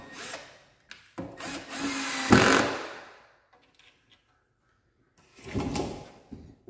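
A power drill drives a screw into the metal drawer slide rail of a white gloss modern European series ready-to-assemble cabinet, in two close, loud whirring bursts separated by a quiet pause.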